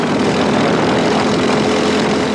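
A CRG FS4 kart engine straining while running: a continuous loud, droning buzz, close and steady throughout.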